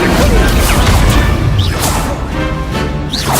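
Fire spell cast in Hogwarts Legacy, a loud burst with whooshing flames and crackling booms that fill the moment, dense and continuous with a couple of rising swishes.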